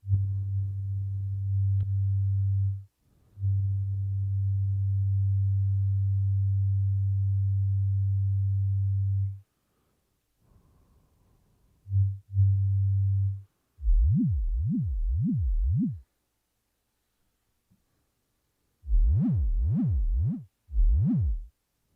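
A steady synthesizer tone holds, breaks off, then returns as a wobbling tone whose pitch sweeps up and down in regular cycles, in several separate bursts.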